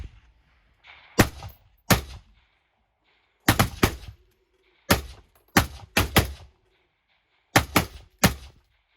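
Rifle shots from a Swiss Stgw.90 fired at a 300 m range, ringing out as loud sharp cracks in an irregular string of about eleven rounds, some in quick pairs, with brief echoing tails between them.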